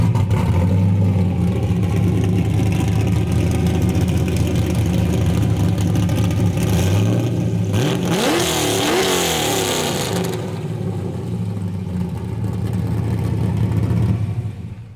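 Ford Foxbody Mustang engine running loud and close, a steady idle rumble that swells into a burst of hard revving midway before settling back to a throaty idle.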